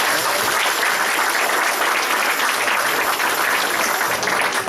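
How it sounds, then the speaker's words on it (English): A church congregation clapping hands together, a dense, loud, sustained burst of applause filling the room without a break for several seconds, no speech over it. "Give God a hand clap."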